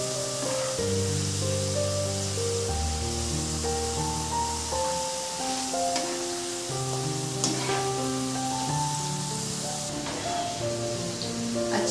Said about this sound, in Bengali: এইভাবে আমি পরের ব্যাচের আলুগুলো ভেজে নেব